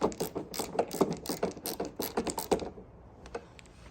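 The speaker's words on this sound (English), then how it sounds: "I got the back screw in, putting the front screw in now." A screw is driven into a Harley-Davidson amp rack bracket for a 2024-and-up model, giving a close, rapid run of ratcheting clicks that stops, then a few faint ticks follow.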